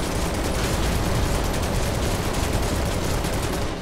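Loud, continuous gunfire fills a battle in the video game Final Fantasy 7 Remake, a dense, rapid rattle of shots that hammers on without pause.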